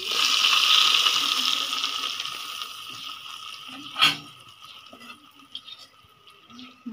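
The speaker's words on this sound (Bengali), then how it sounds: "এই তো তেলগুলি দিয়ে দিচ্ছি" Leftover chicken-frying oil poured from a vessel into a pot, a liquid pouring hiss that is strongest at first and tapers off, then a sharp clink and a few small drips and knocks, with no talking.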